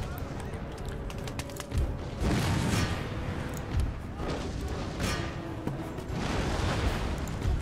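Musket volleys crack out in an Empire Total War battle as line infantry fire on advancing mercenaries, repeated booming bursts of massed gunfire rolling across the field amid continuous battle din.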